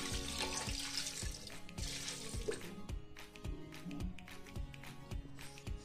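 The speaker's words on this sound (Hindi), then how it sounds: "दो ग्लास पानी डालूंगी" Water splashing and pouring into a pressure cooker holding meat for aloo gosht, a steady close stream with clattering taps, no talk.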